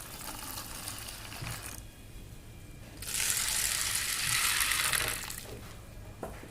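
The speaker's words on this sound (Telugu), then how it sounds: "ఇప్పుడు ఈ రెండింటిలో వాటర్ వేసుకోవాలి" Water is poured into a bowl of chickpeas in two short bursts, a brief splash then a longer, louder hissing stream filling the container, with a quiet pause between.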